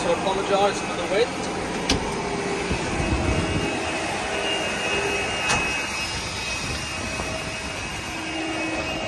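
Wind buffets an outdoor microphone on a farm field during a drill demonstration, a steady broadband rumble and rush throughout with gusty bumps, fairly loud and continuous, with no voices.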